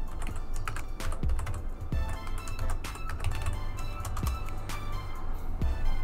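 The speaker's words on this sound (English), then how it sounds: "it'll ask you to enter your password." A password is typed on a computer keyboard on a Debian or Ubuntu Linux system, giving a brisk, close run of clicking keystrokes with a few heavier key taps. No one speaks.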